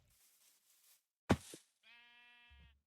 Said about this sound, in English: Found a sheep.